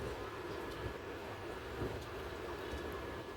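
The Gorakhdham Superfast Express sleeper train pulls away from the station, a faint, steady rolling rumble with light clicks and rattles, heard from on board.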